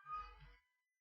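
A pet cat meows outside a door, one drawn-out faint cry that fades quickly into silence.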